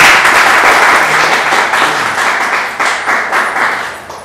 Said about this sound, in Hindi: जोरदार ताली से मैडम का स्वागत।